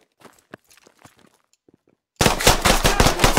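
A video game headshot gunshot cracks suddenly at mid-clip, followed by a loud, dense burst of gunfire and impact noise that fills the rest, after a quieter stretch of faint clicks and footsteps.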